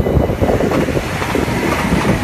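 A freight train rolls past in Nieuwstadt, loud and close, with a continuous rumbling roar and rhythmic clatter of wheels on track throughout.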